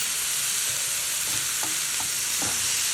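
Prawns sizzle and bubble vigorously in a pan, a dense steady hiss throughout with a few soft clinks or stirring knocks near the end, close and with no talking.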